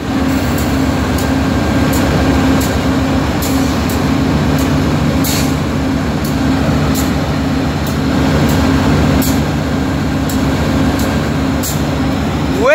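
A VIA Rail passenger train with a baggage car rolls past close by at Woodstock with a steady heavy rumble, rhythmic clacking of wheels over rail joints, and a faint hum throughout.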